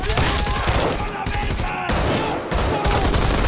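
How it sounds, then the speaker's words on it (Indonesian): Dense gunfire pours down on a cartel compound during a shootout with Mexican special forces, a loud, continuous barrage of overlapping shots with no clear gaps. "Tembakan terus menghujani markas"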